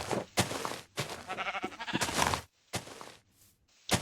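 Sheep in the block-building game Minecraft bleat repeatedly, several loud, close bleats in quick succession separated by short pauses.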